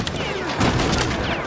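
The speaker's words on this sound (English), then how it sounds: "Like that gunshot right there has killed me." A gunshot from the video game Little Nightmares 2 booms as a sudden broad burst partway through, over a dense, noisy game soundscape.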